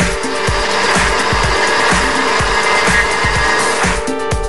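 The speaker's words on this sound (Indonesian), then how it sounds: "Lalu haluskan dengan blender." A blender purees boiled, softened broccoli with a little added water, a loud, continuous whirring grind with a steady churning pulse throughout and no talking.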